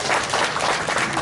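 Dense, steady applause from an audience at a Togolese political party launch, many hands clapping together in a loud, continuous wash with no pause.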